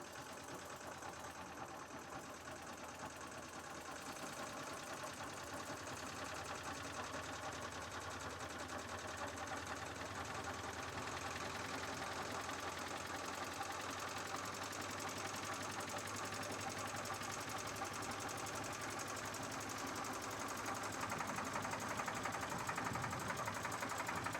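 A test engine runs steadily for the whole stretch, its revs climbing slowly as the system pressure rises, giving a dense mechanical drone with a faint whirring, buzzing quality and no talk.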